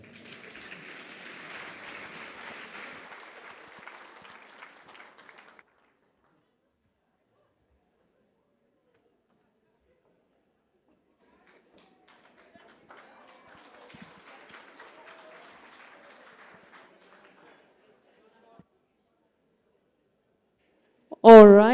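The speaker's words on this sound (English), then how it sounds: "I think another round of applause for Jaguar Windhoek." A conference audience applauds after a closing speech at a business awards event, a moderate spread of clapping for several seconds that fades to silence, then returns faintly and sparsely later, ending with a loud burst.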